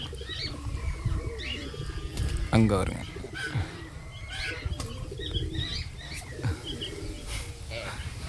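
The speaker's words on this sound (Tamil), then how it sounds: "10 மணி நேரங்கிட்ட பறக்கக்கூடிய புறா தரையில் கிரவுண்ட் ரோலர் மாதிரி அடிச்சிட்ருக்கு" A pigeon of a long-flying breed tumbles on the ground like a ground roller, beating its wings in short, close flapping bursts. Soft coos and chirps from other birds surround it, and a person speaks briefly.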